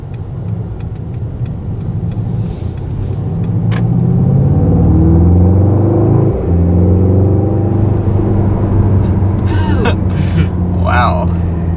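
A 2019 Mercedes-AMG GT 4-Door sedan accelerates hard from a start, its engine note climbing through a deep, swelling roar inside the cabin, with a short break at a gear change before it pulls again, while people talk.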